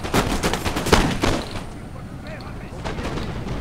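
Musket volleys in a Napoleon: Total War battle between Russian and French armies, a crackling burst of gunfire up front fading into distant battlefield rumble.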